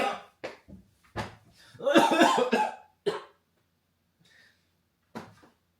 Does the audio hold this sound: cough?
yes